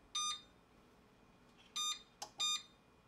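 A 4000W pure sine wave power inverter sounds its low-voltage warning, a faint electronic beeper giving short double beeps in pairs, close but quiet, with no talk.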